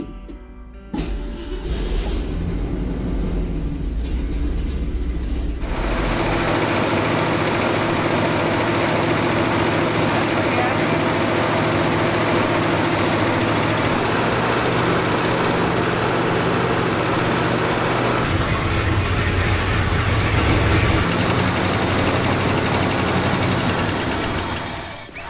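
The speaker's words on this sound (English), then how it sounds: "Okay, so we determined it runs. It doesn't run great though, it basically won't idle." The engine of a 1974 Ford F-250 Highboy runs roughly and struggles to idle, a loud, close, continuous uneven rumble with no talking.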